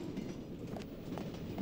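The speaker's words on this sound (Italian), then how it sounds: "Questi treni a volte danno certi scossoni." A train carriage rattles and jolts along the tracks, a steady low rumble with faint rhythmic clicks and knocks, heard from inside, with no one speaking.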